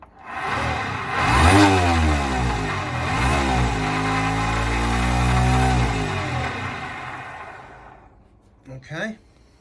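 Electric motor on a converted NSU Quickly moped whining as the throttle is turned, its pitch rising and sweeping up and down for several seconds before cutting off, followed by a couple of short bursts.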